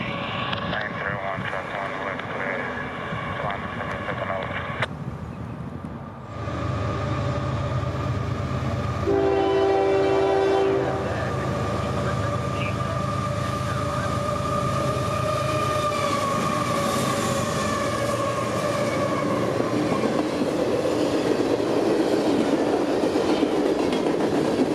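Freight train M367, a daily manifest from Selkirk to Chicago with four locomotives up front and 113 cars, passes in New York State, a long loud horn blast sounding over the engine roar and the clatter of wheels, with people talking faintly.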